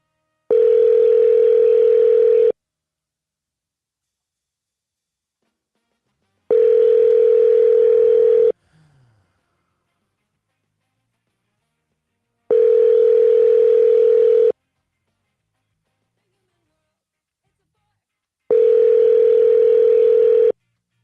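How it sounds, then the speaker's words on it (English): Outgoing telephone call ringback: four evenly spaced ring tones of about two seconds each, separated by roughly four-second silences, clear and steady with no talking. "It's ringing, ringing, ringing."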